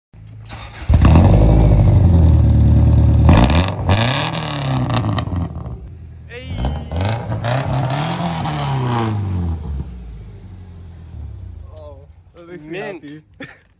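A 2000 Subaru Legacy Outback with its resonator deleted revs hard in several loud, raspy bursts, each rising and falling in pitch, heard close up with a pause between pulls and a lighter blip near the end.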